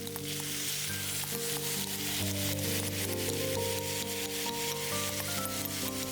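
Sauce poured over stir-fried rice noodles in a hot pan for pad see ew, setting off a loud, steady sizzle that runs the whole time over soft background music.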